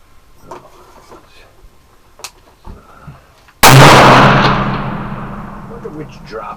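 A single loud rifle shot on a range where targets sit at 200 yards cracks sharply after a few seconds of quiet handling noise and rolls away in a long, fading echo.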